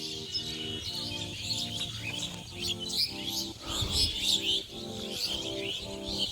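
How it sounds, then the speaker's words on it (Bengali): Small birds chirp and call in bamboo trees behind a Shiva temple, with busy bright tweets scattered over a steady low tonal hum, moderately distant and without speech. "খুব সুন্দর লাগছে দেখো পাখির আওয়াজ প্রাকৃতিক সৌন্দর্য"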